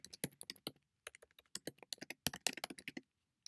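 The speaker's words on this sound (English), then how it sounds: "So I'll just type this in there." Typing on a computer keyboard, close, crisp clusters of key clicks in quick irregular bursts with short pauses between them, alone and fairly quiet.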